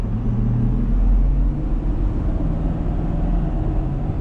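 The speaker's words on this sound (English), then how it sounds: "I'm gonna give you a little acceleration run right here." A lifted 2026 Ford F-250 Lariat pickup accelerates, heard from inside the cab as a steady, fairly loud low engine and road rumble that holds even throughout, with no talking.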